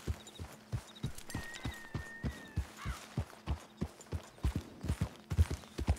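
Horse hooves clop along at a steady walking rhythm in Red Dead Redemption 2, each footfall distinct and thudding close by, with a brief whinny partway through over quiet ambient background.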